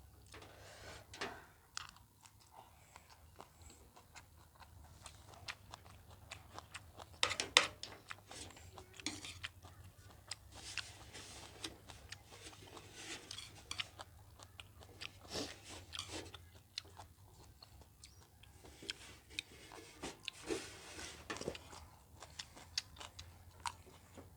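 Someone eats stir-fried vegetables, chewing with soft, irregular crunches and bites close to the microphone, quiet and scattered over a faint steady background hum.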